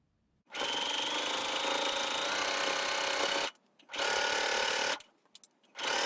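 A sewing machine runs loud and close, stitching a gathering row on a tiered Liberty fabric dress in three sustained bursts of even, buzzing whir separated by brief stops.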